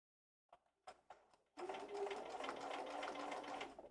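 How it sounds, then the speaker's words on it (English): A sewing machine quilts a row, starting with a few short clicks and hand-adjustment taps before settling into a steady, close, continuous whirring stitch that runs to the end. "Let's see if I can get this row quilted."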